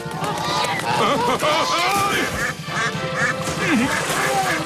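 A cartoon duck quacks repeatedly amid a busy animated scene, loud and close, mixed with voices and other comic sound effects.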